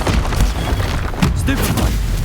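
A Confringo blasting spell in a video game hits with a dense, loud low-end boom amid continuous rumbling combat noise, with short bursts layered on top.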